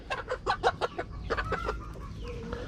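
Young chickens on a backyard farm cluck in a quick run of close, sharp calls, followed by softer, drawn-out clucking.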